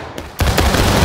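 A massed volley of musket or cannon fire from an infantry battalion in the Civil War game War of Rights erupts as a loud, close, sustained crackling roar that follows a brief quieter lead-in.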